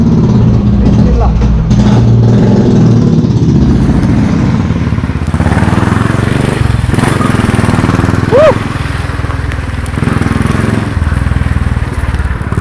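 Motorcycle riding in the rain, the engine drone and wind rumble loud and constant throughout, close to the rider, with a brief rising whine partway through.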